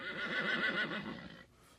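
A horse whinnies as a sound effect in a comedic radio cartoon, one loud, wavering neigh that rises and trembles for over a second before cutting off abruptly.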